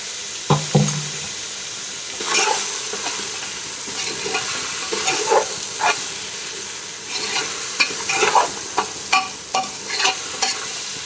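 A quarter kilo of tomatoes fries in mutton masala for biryani in a pan, with a steady sizzle broken by repeated scraping stirs of a spoon, close and fairly loud, with no talking.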